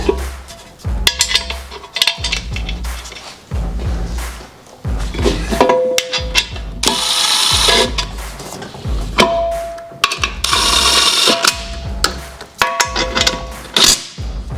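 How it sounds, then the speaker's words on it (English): An LS engine being bolted to an AR5 transmission adapter in a garage, with repeated metallic clanks, thunks and light tool clinks in an irregular rhythm, close and fairly loud. "I'm just gonna put a couple of bolts in just to hold her in place."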